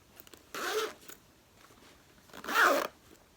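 A zipper on a small handmade bag sewn from old jeans, pulled in two quick, close zips separated by a short quiet pause.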